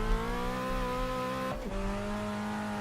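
A touring car in Reiza's Brazilian Touring Car Classics racing game, Copa Classic, drones loud and steady at high revs while struggling for traction, with a brief dip and shift in engine pitch partway through.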